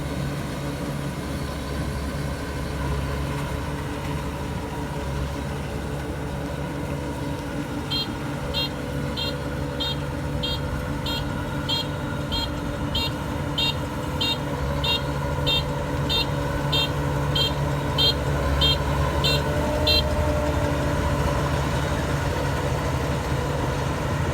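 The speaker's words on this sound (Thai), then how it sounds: "สำหรับรถเกี่ยวครับ DC 93นะครับ" A Kubota DC93G combine harvester's engine drones loud and steady in a rice field, with a faint train of rapid ticks partway through.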